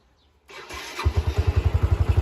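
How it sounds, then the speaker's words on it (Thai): A Honda Sonic 125 motorcycle starts up close by: a brief starter whir, then the engine catches into a loud, fast, even thumping idle. "สตาร์ทง่ายนะครับ"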